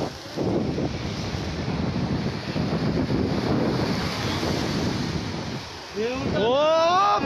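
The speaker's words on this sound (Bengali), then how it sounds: "বিশাল ঢেউ, বিশাল ঢেউ" Huge waves and strong wind during Cyclone Yaas on the West Bengal coast, a loud sustained roar of surf and gusting wind buffeting the microphone, with a voice calling out near the end.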